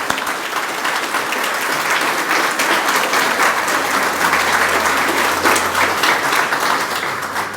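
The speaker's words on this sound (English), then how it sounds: "let's give each other a round of applause." Sustained audience applause at a city hall ribbon cutting ceremony, a dense, steady wash of many hands clapping at even loudness throughout, with no voices over it.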